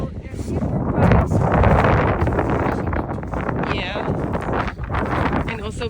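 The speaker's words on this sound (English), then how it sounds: "because it's really windy here all the time" Strong wind buffets the microphone in a steady, loud roar with gusting surges, recorded outdoors on an animal-keeping property where bright flags flap constantly; voices are partly heard beneath the rumble.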